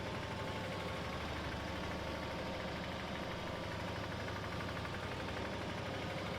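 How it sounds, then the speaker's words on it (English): An old tractor engine labors under a 500 kg load on a field spreader, a steady, dense, loud drone that holds at the same pitch throughout with no pauses. "The poor old tractor is struggling a little bit with this 500 kilos of weight on"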